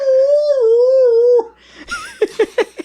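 A man imitates a wolf howl with a long, sustained, wavering vocal tone, followed by a few short yipping barks, loud and close.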